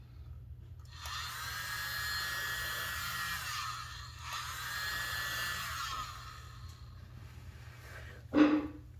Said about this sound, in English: I'm going to use my little blower.